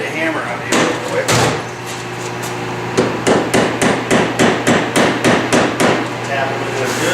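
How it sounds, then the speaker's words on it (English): A hammer tapping glued parts of a homemade bucksaw: a few scattered knocks, then a quick, regular run of about a dozen sharp close taps over a faint background hum. "Let me get a hammer out here real quick."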